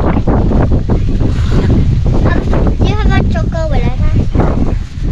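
Strong wind buffets the microphone at a mountain summit campsite, a loud, constant rushing roar, while a person talks over it in the middle of the clip.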